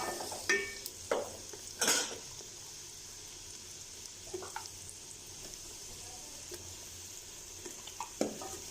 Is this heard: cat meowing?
no